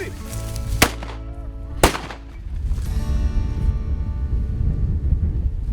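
Two sharp, loud shotgun blasts while hunting ringneck pheasants in an open field, spaced about a second apart, followed by wind and outdoor rustle with faint voices.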